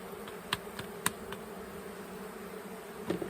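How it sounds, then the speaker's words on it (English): A beekeeper's swarm of honeybees drones in a steady, close hum while being shaken into mini nuc boxes, with a few sharp knocks and taps breaking through the continuous buzzing. "We wanna shake all of these bees"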